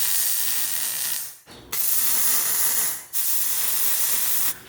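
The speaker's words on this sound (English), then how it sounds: "Before I do any preheating, I'm just going to tack this on." Welder tacking a bracket onto a Jeep Comanche front axle: three long, loud, steady crackling hisses, each stopping sharply for a brief pause before the next, up close with no talk.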